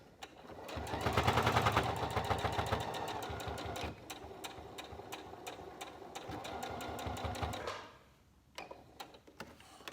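A sewing machine stitches fabric for a face mask in a fast, steady mechanical chatter that runs for several seconds, pauses briefly, resumes, and then stops, close and clear with no talking.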